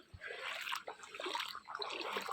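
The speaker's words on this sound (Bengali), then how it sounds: "ভালো স্রোতে জল যাচ্ছে এখন" Floodwater draining away past a flooded home in a strong, fast current, a steady rushing wash of water that stays close and fairly loud throughout with no pauses.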